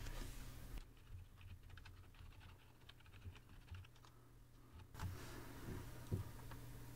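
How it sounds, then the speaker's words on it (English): Quiet tapping on a computer keyboard while typing into a Mozilla Firefox search bar, a quick run of soft, close keystrokes over faint room hiss. "I'm going to type javascript.enabled."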